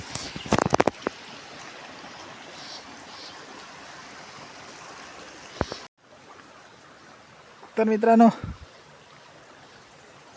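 A river stream flows steadily through most of the stretch, a close, even rush of water that cuts out near the middle and returns with a brief voice speaking over it.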